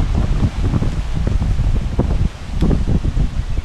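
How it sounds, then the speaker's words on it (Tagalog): Gusty wind buffets the microphone in rough, low rumbling bursts that rise and fall over a constant blustery background. "Mahangin pa."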